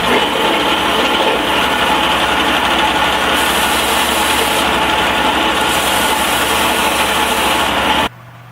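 A belt sander whirs steadily and loudly while shaping a ukulele saddle, with a shift in pitch partway through before it cuts off abruptly.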